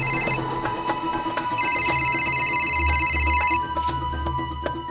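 Telephone ringing indoors, a bright electronic trill in two bursts, one short and one longer, loud against a low background hum with no voices.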